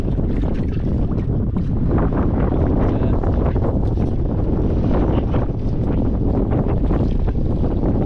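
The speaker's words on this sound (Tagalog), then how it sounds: "Malakas ang hangin." Strong wind buffets the microphone on open water near a boat, making a loud, constant roar with gusty rumbling through the whole stretch.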